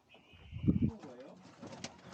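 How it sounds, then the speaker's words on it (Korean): Pigeons kept in a cage in Uzbekistan coo softly in low, throaty bursts, close but faint, with some brief chirping and background voices afterward. "비둘기다."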